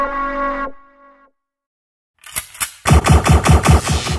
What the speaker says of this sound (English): Eat lasers, noobs!